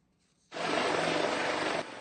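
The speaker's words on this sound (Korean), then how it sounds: "구조용 헬기가 강 위를 비행하며 주변을 살핍니다" Rescue helicopter flying over a river in a flood search: a steady, loud rotor and engine roar rises abruptly after half a second, holds evenly, then drops slightly near the end.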